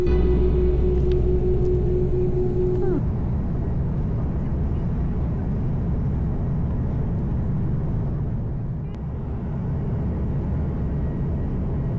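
Passenger jet on a flight to Italy, bound for Turin, taking off: a steady, loud low rumble of engines and cabin noise that holds for the whole stretch, with a brief tonal whine early on.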